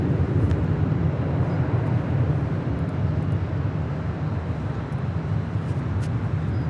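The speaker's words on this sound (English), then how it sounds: "Delta Airlines 708 departing to Detroit, Michigan on an A321" A Delta Airlines Airbus A321 departs Los Angeles International Airport with a loud, steady low roar of jet engines that holds throughout and is heard from outdoors.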